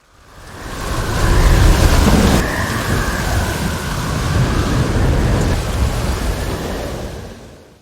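Heavy storm noise at sea at night roars with rushing wind and crashing ocean waves, swelling and easing in broad surges, with a low rumble underneath.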